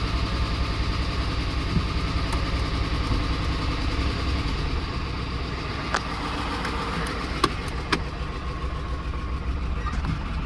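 Racecar engine idling roughly and unevenly, a low, lumpy rumble with occasional sharp clicks and knocks, steady and moderately close, with faint voices in the background.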